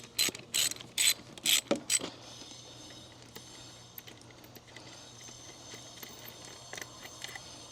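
A ratchet socket wrench loosens 9/16 bolts on a pool pump motor, several sharp clicking bursts up close in the first two seconds, then quieter fiddling and faint metallic ticks.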